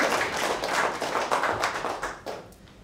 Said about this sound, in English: We can applaud for Pete.